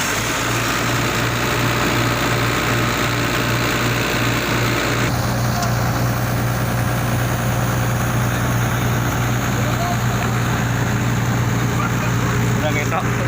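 A heavy excavator that broke down in the middle of the night runs continuously with a loud, droning engine hum that holds steady throughout, with voices over it.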